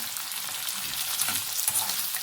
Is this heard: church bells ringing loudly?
no